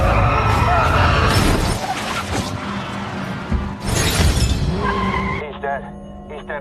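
A car slams into a truck blocking the road in an action film scene, a loud crunching crash with shattering glass and skidding, followed by a quieter stretch over a steady low rumble and film score.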